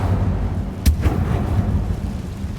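An Incendio fire spell cast in a Hogwarts video game: a single sharp whooshing burst followed by a brief crackling flare, set over a low steady ambient rumble, with no voices.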